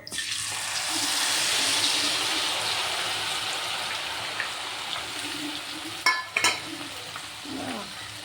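Cornflour batter dropped into hot cooking oil gives a steady, close frying sizzle throughout, with a few sharper spattering crackles and utensil clinks toward the end, and no talking.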